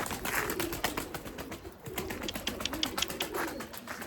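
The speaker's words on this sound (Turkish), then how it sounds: "Ya işte güvercin dostlar." Domestic Erzurum white breeding pigeons coo in a loft, a continuous layered cooing from several birds at a moderate, fairly close level.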